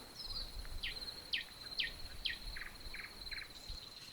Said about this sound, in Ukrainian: соловей співа